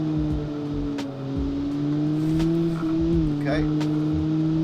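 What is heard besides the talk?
car engine revving in Automation car game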